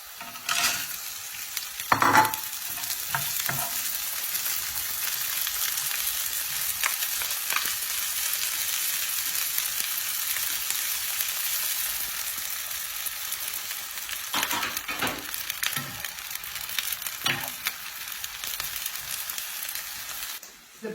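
French beans sauté in a hot pan for fried rice, giving a steady sizzling hiss for the whole stretch. A few scrapes and stirs of the pan break through now and then, and no one speaks.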